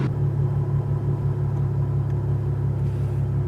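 Deep, steady car exhaust rumble at idle through Motordyne Art Pipes, low and smooth with no rasp, close and continuous.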